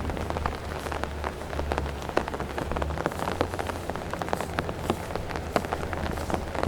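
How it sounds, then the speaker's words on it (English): Steady rain falls across a park along the Humber River in Toronto, pattering densely on surfaces and the ground. Footsteps on the wet path tap along underneath as someone walks through the cold downpour. "a little random walk in the park in the rain"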